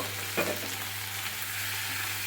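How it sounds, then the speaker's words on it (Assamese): Continuous sizzling of tomatoes frying in a pan, a low steady hum underneath and a short scrape near the start. "এতিয়া আমি বিলাহীখিনি ধুনীয়াকৈ গলি যোৱালৈকে ভাজিব লাগিব।"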